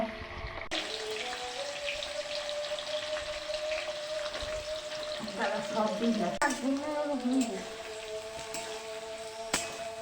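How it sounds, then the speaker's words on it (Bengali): Whole spices, including cloves, sputter and crackle in hot oil or ghee in a pan while fried rice is being made, with a steady close sizzle, brief bursts of popping and a clink of a utensil near the end. "আবার ফুটছে দেখো, এখনই পুড়ে যেতাম।"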